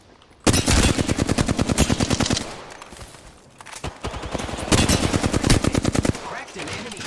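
Rapid automatic gunfire in the battle royale game Apex Legends: two long, loud bursts of closely spaced shots separated by a short pause, with a brief quieter gap between them.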